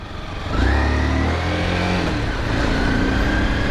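A motorcycle engine revs hard under throttle, a loud, close, rough growl that swells after a short idle and holds steady to the end, with no talk.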